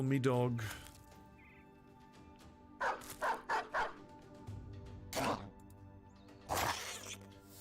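Several short bursts of barking from a war dog in the Battle Brothers video game, clustered in quick pairs and separate yaps over a quiet background with a droning game tone.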